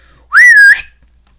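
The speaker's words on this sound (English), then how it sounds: "he put his 2 fingers into his mouth and whistled" A single loud, shrill two-finger whistle, rising then holding steady for about half a second before cutting off, heard alone against near silence.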